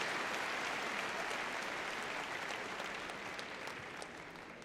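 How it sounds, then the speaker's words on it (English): Audience applause at Crufts 2012 obedience championships, a steady dense wash of clapping from a large indoor crowd that fades slightly toward the end. "I think we give them a little round of applause there"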